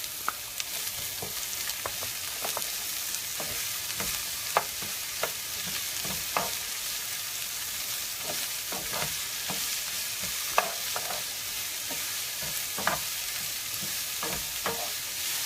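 White onion, one medium size, being sautéed in a pan, giving a steady close sizzle with repeated scraping stirs of a utensil at irregular intervals, no voices.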